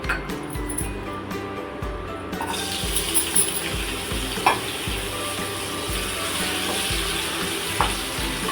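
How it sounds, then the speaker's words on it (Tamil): Pirandai (adamant creeper) frying in oil in a kadai, a steady close sizzle with repeated rhythmic stirring scrapes and occasional clinks throughout, no voices. "கொஞ்சமாக ஆயில் சேர்த்து பிரண்டையை நல்லா வதக்கி எடுத்துக்கலாம்."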